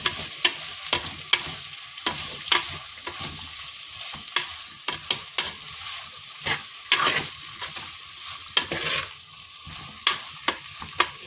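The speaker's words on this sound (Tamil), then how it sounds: "தக்காளி, வெங்காயம் இது 2த்தையும் போட்டுக்கலாம். போட்டுட்டு இதை நல்லா மிக்ஸ் பண்ணிக்கலாம்." Tomatoes and onions frying in a pan while being stirred: sharp, irregular clacks of a utensil against the pan punctuate a soft, continuous sizzle, fairly close and with no talking.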